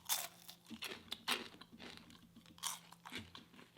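Crispy two-spice masala french fries bitten and chewed up close, a series of sharp crunches with irregular chewing crackles between, quiet and with no talking.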